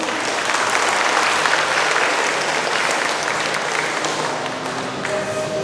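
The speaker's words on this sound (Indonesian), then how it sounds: "Tepuk tangan dulu." Applause from the audience at an Indonesian motivational dharma talk, a loud, dense wash of clapping that stays steady throughout and eases slightly near the end.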